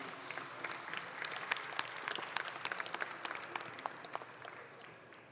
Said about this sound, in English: Let's give them all a nice big round of applause.